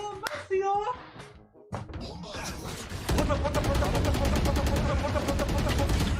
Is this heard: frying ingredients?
no